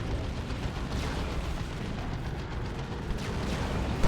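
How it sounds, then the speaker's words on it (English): Dense, continuous rumble of cannon fire and explosions as a Venom Cannon Carnifex pounds a looted tank in the real-time strategy game Dawn of War II: Retribution, steady and loud throughout with a sharp burst at the end. "Venom Cannon Carnifex doing ridiculous damage to that looted tank, and finishes it off in melee."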